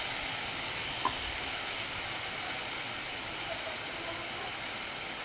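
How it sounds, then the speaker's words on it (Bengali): A spice paste of ground cumin and turmeric fries in a pan, giving a steady, even sizzling hiss throughout with no talking. "মশলাটা কষিয়ে নেব অল্প হলুদ ফুল দিয়ে দিলাম"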